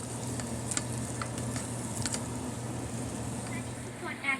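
Mushroom biryani ingredients sautéing in a pan, a steady moderate sizzle with occasional stirring scrapes and clinks, heard up close and continuous throughout.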